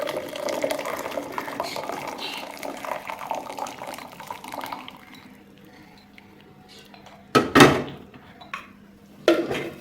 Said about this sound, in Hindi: अब मैं इसको छान लूँगी।